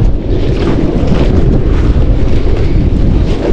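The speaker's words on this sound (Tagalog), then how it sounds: "Lakas ang hangin, ah." Strong gusting wind roars continuously in a video game, a dense steady rush with slight swells and no pauses, loud and alone.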